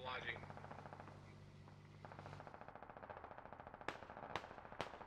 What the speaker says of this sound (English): If you shoot a vehicle now with an AR or a regular rifle, like every fourth shot ricochets off of the vehicle.